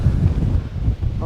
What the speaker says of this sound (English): It's really windy now up here.